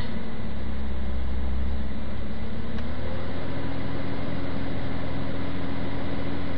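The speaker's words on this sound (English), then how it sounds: "And if I rev it up a little bit" A cold Chevrolet Suburban engine with 176,000 miles runs steadily, then its pitch rises slightly as it is revved from idle, a low continuous drone recorded close up.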